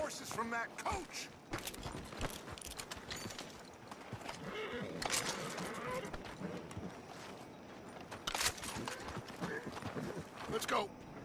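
Horses' hooves clip-clop steadily and a horse whinnies during a chase scene in Red Dead Redemption 2. The hooves are moderately loud and mix with game music, effects and in-game characters talking.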